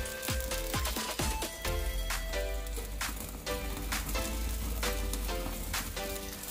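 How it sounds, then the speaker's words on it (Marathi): A chicken leg piece roasting on a wire grill over a medium gas flame, giving a dense, continuous crackling sizzle with a few sharp ticks early on, close and steady throughout. "आता त्या जाळीवर आपल्याला चिकन लेग पीस ठेवून घ्यायचं आहे"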